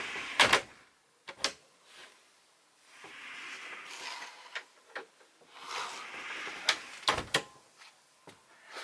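A door on a Malibu Charming coupé campervan is swung shut, giving a few sharp clicks and latching knocks, fairly close, with no talking.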